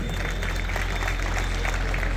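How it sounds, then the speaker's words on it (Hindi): An audience at a state-level tug of war tournament claps along in a broad, continuous wash of applause, heard slightly distant over a constant low background rumble from a public address system. "एक बार जोरदार तालियां बजाइए आप"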